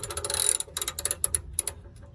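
A hand ratchet snugs down an oil drain plug during a DIY oil change. A close, crisp burst of rapid clicking is followed by several separate ratcheting strokes that trail off.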